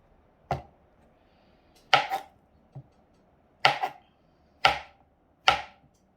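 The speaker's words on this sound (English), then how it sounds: "We're recording a video of me cutting" A sharp knife slices through bananas with five crisp, separate cuts against a board, close and clear with short pauses between strokes and no talking.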